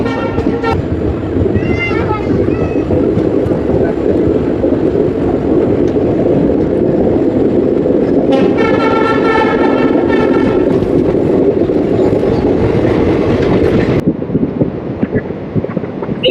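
Passenger train running between Siliguri and New Mal Junction in the Dooars region of Bengal, past tea gardens: a loud, steady rumble and rattle that continues throughout, with brief tonal whistles or calls over it and a drop in level near the end.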